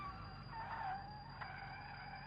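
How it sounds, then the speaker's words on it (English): Brakes squeal in a high, wavering tone over steady engine and road rumble from a car in the BeamNG driving game; the squeak is short and rises out of the mix. "I hear squeaking brakes"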